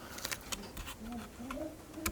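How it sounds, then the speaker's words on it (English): Pigeons coo softly in an abandoned, decaying building, low warbling calls repeating faintly amid scattered knocks and room noise. "It's alright, pigeons."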